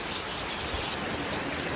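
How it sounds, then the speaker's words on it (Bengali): Steady rain pours down in a village during the hot season, a dense, continuous hiss of drops on surfaces, close and loud with no voices over it. "আজকেই আবার বৃষ্টি নেমে গেল"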